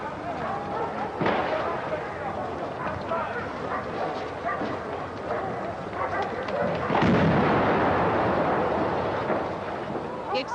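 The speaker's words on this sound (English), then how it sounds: "The explosion ripped through the building." A bomb blast rips through a building, a heavy booming burst over the roar of a crowd, with dogs barking and people shouting throughout.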